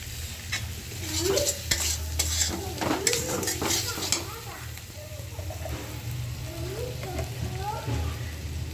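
Garlic frying in oil in a pan, a steady sizzle under repeated scraping strokes of a stirring utensil, with a voice speaking over the cooking.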